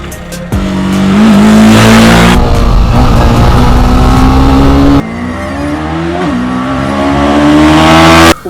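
A TVS Apache RR 310 single-cylinder sport motorcycle is revved hard to high RPM in loud, sustained bursts, with the pitch climbing and breaking off between pulls and a sharp cutoff at the end.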